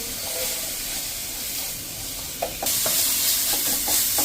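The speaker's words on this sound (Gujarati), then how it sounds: "આપણે 1 મિનિટ આ રીતે એની કચાશ દૂર થાય ને ત્યાં સુધી આપણે તેલમાં એને રોસ્ટ કરી લેશું" Oil sizzling and hissing in a pan as ingredients roast for dosa chutney, with a steady close hiss that grows louder midway, punctuated by a few scraping stirs.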